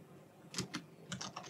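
Quick keystrokes on a PC computer keyboard sound close and crisp, two taps followed by a brief pause and then a rapid run of several more.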